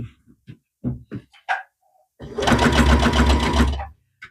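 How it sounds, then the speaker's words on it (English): A sewing machine stitches a quarter-inch seam along the binding of a quilt in one steady, fast run of about two seconds, preceded by brief clicks and handling noises. "all I'm going to do is sew 1/4 of an inch all the way down to the other end of the"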